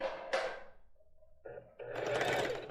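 Sewing machine stitching a lace bra, short whirring bursts of stitching separated by brief pauses and a small mechanical clunk, close and fairly quiet.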